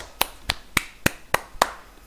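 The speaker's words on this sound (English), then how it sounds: "I deserve to clap my hands." One person claps their hands six times at a steady, even pace, each clap sharp and close, with quiet in between.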